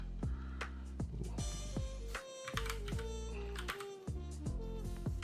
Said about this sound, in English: Hoping my mechanical keyboard doesn't come off as too loud